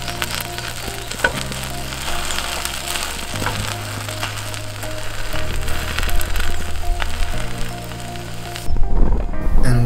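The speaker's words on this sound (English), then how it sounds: "start toasting your bread" Buttered bread toasting in a pan over low, gentle heat, giving a steady soft sizzle and crackle, close and continuous, with a brief louder shift near the end and no talk.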